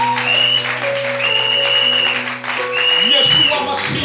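A congregation applauds continuously at a prophetic worship service, a steady wash of clapping heard alongside sustained tones and voices.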